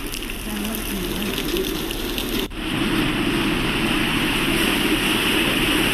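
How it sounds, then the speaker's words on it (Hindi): Heavy morning rain pours down in a dense, continuous hiss. It stays loud and steady throughout, apart from one brief dip partway through. "जहां आज सुबह तेज बारिश हुई"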